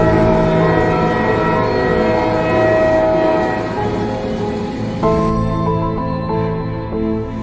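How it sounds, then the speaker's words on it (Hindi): A train pulls into a station, a loud sustained rumble with horn-like tonal notes that shift partway through as it arrives, heard close and without speech. "और वो देखो, ट्रेन आ भी गई है।"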